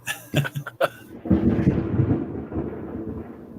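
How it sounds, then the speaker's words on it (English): Rolling rumble of thunder from a passing storm, opening with a few sharp cracks and then settling into a long, loud, low growl that slowly fades. "So that was real thunder."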